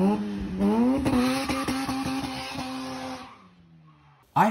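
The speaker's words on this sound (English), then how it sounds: "who doesn't love the sound of a rotary engine?" A Mazda rotary-engine sports car revs, climbing sharply in pitch and then dropping off as the throttle closes, followed by a brief loud burst at the end.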